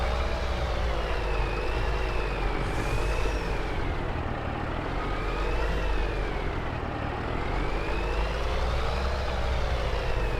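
In Farm Sim 22 on the Hills of Tuscany map, a truck pulling a trailer maneuvers with a steady, loud engine drone whose revs swell and dip continuously.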